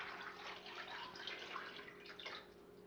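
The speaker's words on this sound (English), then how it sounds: "So it takes a while to add all the water here" Water pours steadily into a stock pot of bones, a faint, continuous splashing and trickling that runs unbroken for about three seconds, with no talking.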